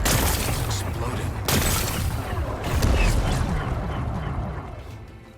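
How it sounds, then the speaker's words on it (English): Rocks being blasted away by an explosion in the video game Horizon Forbidden West, a loud crackling burst with debris and impacts that rumbles on, then fades out over a few seconds. "It's exploding."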